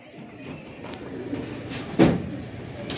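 Racing pigeons entering a loft after a derby lap in Gumaca, Quezon coo softly in low repeated notes, with a sharper bump partway through and light background noise.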